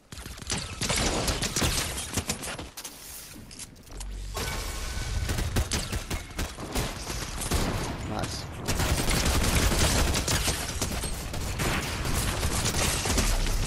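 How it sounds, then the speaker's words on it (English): Dense, rapid gunfire from a Fortnite match rattles almost nonstop, loud and close, with bursts intensifying in the second half amid other game noise. "Oh my god, I'm getting shot by somebody else."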